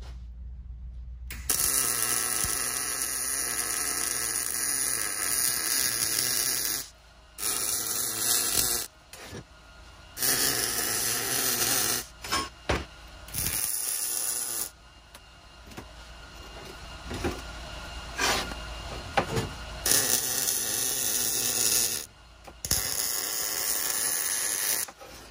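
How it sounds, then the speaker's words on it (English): Welding shock support tubes onto a third-generation Toyota 4Runner during an outboard shock relocation install: loud, close crackling buzz in long bursts, broken by short pauses between welds. "we are going to pause on assembly and go ahead and get these welded up"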